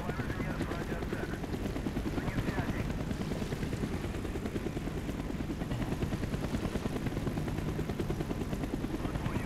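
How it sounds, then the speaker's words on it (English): Helicopter in the Call of Duty Black Ops campaign, a steady dense rotor drone running throughout with continuous low thumping, mixed with game sounds. "Avoid the helicopter spotlight."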